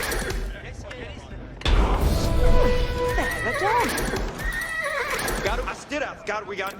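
Horses neigh in Age of Empires IV, with high whinnies rising and falling through the middle and later part alongside hoof clip-clops and battle noise, while voices talk over them.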